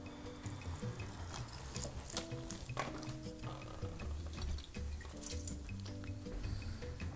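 Water is poured into a dehydrated blueberry MRE breakfast pouch, a steady close trickle and drip with soft liquid sloshing and no speech.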